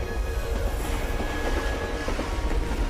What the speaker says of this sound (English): The train passing by, the sound design of the train so good.